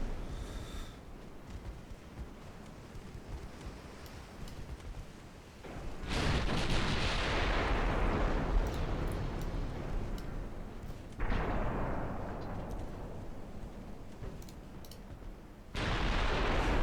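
Gunfire and artillery from a Brazilian campaign in a military combat video game: loud sustained blasts with rumbling decay start partway through, followed by further heavy bursts, over a steady background of battle noise.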